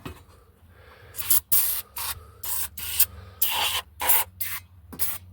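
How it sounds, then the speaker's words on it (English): Short hissing bursts of aerosol stop-leak spray are applied onto the valve cover of a Dodge B2500 van engine to stop an oil leak, about ten close, loud sprays in an irregular rhythm with brief pauses between. "I'm gonna spray, try not to spray on the spark plugs there."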